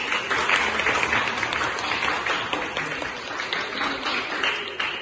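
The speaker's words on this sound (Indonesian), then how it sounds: "tepuk tangan dulu" Steady applause from a classroom group, dense and even for several seconds, with no speaking over it.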